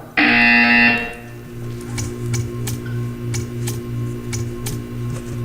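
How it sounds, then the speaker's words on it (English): A loud electronic buzzer blares in a video game for about a second, followed by steady game ambience with a low hum and scattered soft ticks. "You will hear a buzzer. When you hear the buzzer, stare at the art."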